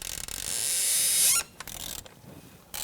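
T30 Torx bolts loosening on the rubber-bushed intake of a 1998-2011 Ford Ranger 4.0L V6: a close, grinding ratchet-and-creak lasting over a second, then short sharp clicks and scrapes.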